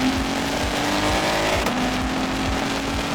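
A BMW M4 engine revs hard and accelerates through downshifts in an aggressive drive mode, producing a loud, continuous, rasping exhaust roar with a brief tonal shift partway through and no speech over it.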